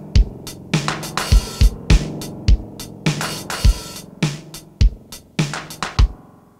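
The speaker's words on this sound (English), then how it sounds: "And then this is the spring reverb." Drum beat played back through the spring reverb of a Yamaha MT8XII multitrack recorder: steady kick and snare hits, each trailed by a short splashy, metallic decay, close and fairly loud with no voices.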